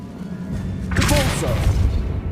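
A Confringo blasting spell goes off in Hogwarts Legacy, a sudden broadband burst about a second in that rolls into a sustained rumble, mixed with a voice shouting and game ambience.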